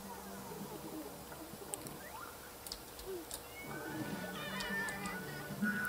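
A cat meows in The Sims 3, a few plaintive cries over a steady game background hum, moderately quiet and without speech.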